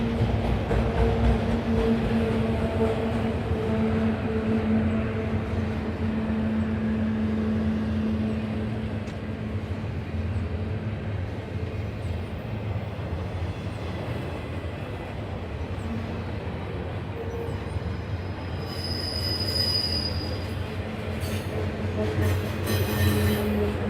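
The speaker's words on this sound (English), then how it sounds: "Train looks spooky in the dark, said Owen Meyer." A train rolls past at night in Stockbridge, Georgia, a long steady low rumble of cars and wheels, with a high wheel squeal rising near the end.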